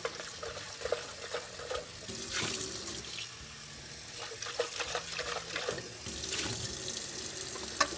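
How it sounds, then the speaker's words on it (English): Water runs and splashes steadily in a sink as descaling solution is emptied from a Gaggia Velasca Prestige espresso machine's water tank and the tank is rinsed, with close sloshing and gushing throughout. "just dump out any remaining descaling solution and give this tank a little rinse"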